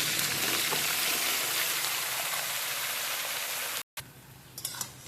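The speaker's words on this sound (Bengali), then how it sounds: "ফোড়ন হালকা ভাজা হয়ে এলে তাতে দিয়ে দেবো ধুয়ে রাখা সবজিগুলো।" Washed vegetables drop into a wok of spiced oil tempering with cumin, bay leaf and green chili, and a loud dense hiss of frying follows. It cuts out sharply for a moment, then comes back quieter with a few clatters.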